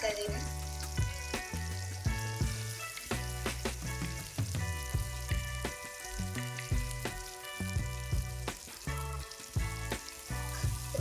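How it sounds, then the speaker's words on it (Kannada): Chopped onion dropped into about three spoons of hot oil for a silver fish curry masala, frying with a lively crackling sizzle, clinking and stirring knocks of a spoon against the pan, and faint background music. "ಇವಾಗ ಒಂದು ಈರುಳ್ಳಿ ಕಟ್ ಮಾಡಿ ಇಟ್ಟಿರೋಂಥದ್ದು ಹಾಕ್ತಾ ಇದ್ದೀನಿ"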